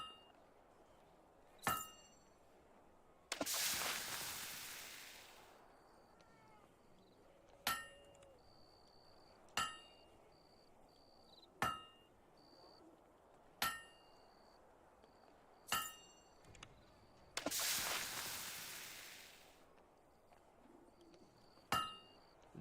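Metal hammer blows ring out clearly as a blade is forged at an anvil in Fable II, sharp clangs spaced a second or two apart, broken by two long bursts of hissing quench or bellows noise.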